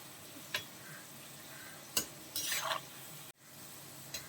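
French fries sizzle softly in hot oil over high flame as a utensil stirs and turns them, with a few sharp clinks against the pan and a brief scraping stir in the middle.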